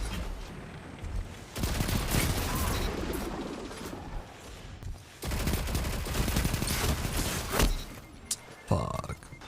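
A submachine gun fires in long rapid bursts in a first-person shooter video game, loud and dense and close, with brief gaps between the volleys and a few clicks near the end.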